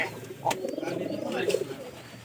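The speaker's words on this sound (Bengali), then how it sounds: "এই তো আমাদের কবুতর বাগান চলতেছে" Soft, throaty pigeon coos roll on in a steady murmur inside a loft, close by, with a few brief wing flutters or clicks mixed in.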